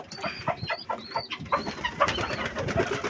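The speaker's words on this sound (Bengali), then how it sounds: "গোসল করতেছে কবুতরগুলো আমার।" Pigeons bathing and cooing, with soft repeated coos and bursts of splashing and fluttering close by, continuing steadily throughout.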